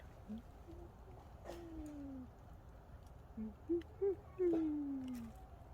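A cat gives low, drawn-out growls and moaning yowls, several in a row, fairly faint against quiet outdoor background noise.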